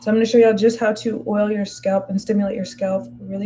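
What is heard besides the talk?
No distinct noise like a dog, phone or traffic.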